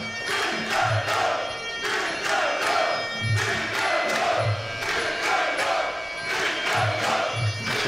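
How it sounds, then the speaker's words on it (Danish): Spectators at a wrestling bout cheer loudly for wrestler Mikkel Lund, a steady roar of crowd noise with rhythmic surges and chanting bursts throughout. "selvfølgelig også masser af opbakning til Mikkel Lund, som vi kan høre her fra tilskuerne"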